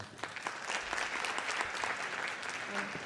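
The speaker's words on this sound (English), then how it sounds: "please give her a large round of applause for Dr. Ann Corson." An audience at a medical lecture on tick-borne diseases applauds a doctor being introduced, dense steady clapping filling the room with a few louder individual claps, close and sustained.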